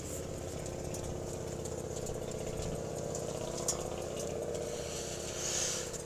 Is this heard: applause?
no